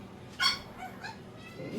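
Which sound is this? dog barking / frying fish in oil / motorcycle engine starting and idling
dog barking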